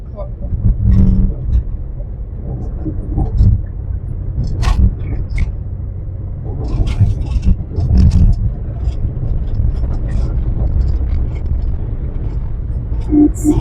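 A car driving at about 60 in fourth gear gives a steady, loud engine rumble and road drone with small bumps and rattles, while people talk over it now and then.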